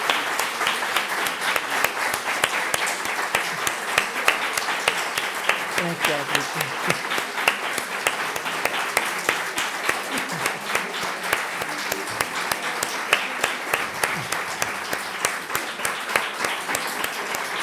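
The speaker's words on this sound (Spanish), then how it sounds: "Vamos a darte un aplauso." An audience at a women creators' visual arts event applauds, a dense, steady round of clapping that carries on for many seconds, with a brief spoken thanks at the start.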